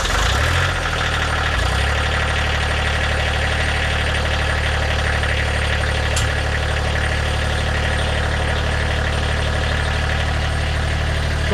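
A Kubota-type GC2300 tractor's diesel engine cranks briefly, catches, and settles into a steady, loud idle that runs unbroken and close.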